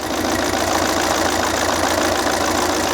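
A Volvo XC90 2.0 bi-turbo diesel engine with a cracked piston and heavy crankcase blow-by idles steadily up close, its loud rumbling chug slightly uneven and knocking throughout.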